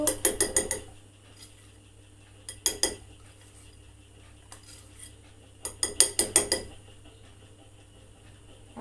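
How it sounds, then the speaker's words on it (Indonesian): A utensil stirring food in a pan during cooking, sounding as bursts of quick metallic scraping and clinking: a cluster at the start, another near the middle, and a longer run toward the end, with quiet gaps between. "Kita aduk. Kita aduk."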